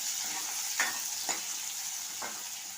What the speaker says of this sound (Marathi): आता कांदा लालसर होईपर्यंत परतून घ्यायचा आहे